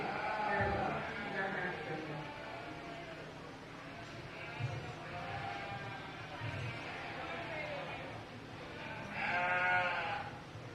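Sheep bleat repeatedly through a 4-H livestock show ring during the market sheep class, Hampshire market ewes among them, with several calls rising clearly over a steady crowd murmur and an announcer's voice.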